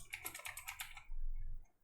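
Rapid keystrokes on a computer keyboard as a database user name is typed, a quick run of clicky taps up close, followed by a low hum of quiet room noise.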